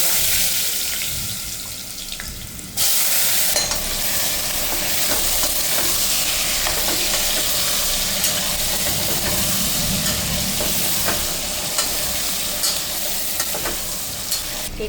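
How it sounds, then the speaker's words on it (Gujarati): Mustard seeds, cumin, hing and turmeric crackle and sizzle in hot oil inside a cooker, a dense steady frying hiss starting after a brief quieter moment and running on with small pops and stirring clatter. "હવે એની અંદર થોડી નાખી દઈશ રાઈ, થોડું એવું જીરું, હિંગ, હળદર."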